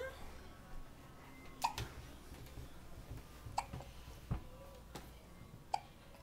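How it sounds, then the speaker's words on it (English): A baby girl hiccups four times, spaced about two seconds apart, each a sharp, short, fairly close catch of breath over a quiet room with low background noise. "Hiccup."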